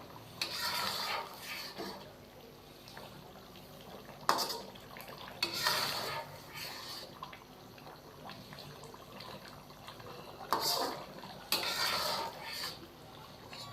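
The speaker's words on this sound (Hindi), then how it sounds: "तो यहाँ पे हम इसको अच्छे तरीके से पकाएंगे तकरीबन 4 से 5 मिनट के लिए, ताकि ऑयल के अंदर भी चिकन की अच्छी तरह भुनाई हो जाए।" Chicken karahi cooking in oil in a pot, with several bursts of stirring and spoon scraping against the metal over a low background sizzle. No one speaks.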